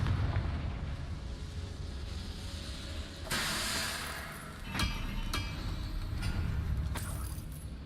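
A Confringo fire blast spell in the Hogwarts Legacy video game goes off as a burst of crackling noise over a steady rumbling game backdrop, followed by a few sharper pops and hits.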